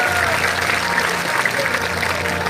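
An audience applauds steadily throughout at a live Veer Teja folk singing performance, with a dense, continuous clapping sound and no talk.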